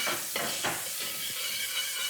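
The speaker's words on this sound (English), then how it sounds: "So you can let them sizzle away for about a minute." Oil sizzles steadily with spices and onion frying in a pan for about a minute, broken by a few soft stirring scrapes near the start.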